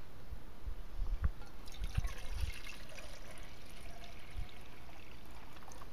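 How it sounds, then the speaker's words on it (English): Water poured into a Jetboil personal cooking system cup at a campsite, a soft, steady liquid trickle with a few small splashes and drips, heard close and alone without any talking. "so I'm gonna put 2 cups of water in here"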